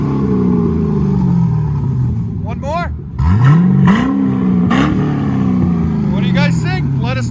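A Chevy Corvette with a 6.0L V8 LS engine and straight-pipe exhaust revs loudly and close by in repeated rising and falling pulls, while people talk briefly between the revs.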